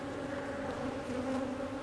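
Honey bees hum steadily throughout a beehive inspection, a continuous close-up drone of many insects with no pauses and no talking.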